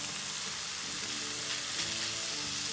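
Onion, chicken and button mushrooms fry together in a pan, giving a steady, close, continuous sizzle with faint crackles and no voices.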